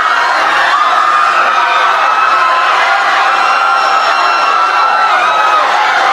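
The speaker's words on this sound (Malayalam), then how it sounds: "ജനക്കൂട്ടം ഇരച്ചു കയറുകയാണ്." A large, excited crowd surges forward cheering and shouting, a loud, continuous roar of many voices with whoops rising from the mass, unbroken from start to finish.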